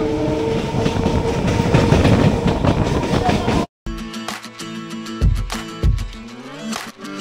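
A Kolkata local train bound for Lakshmikantapur rattles along loudly with steady clickety-clack and wagon rumble, then a brief dropout before closer, clanking wheel-and-coupling noises with deep thumps.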